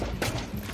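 Rapid gunfire in the video game XCOM: Chimera Squad, a dense, loud burst of overlapping shots that fills a brief moment, heard on its own.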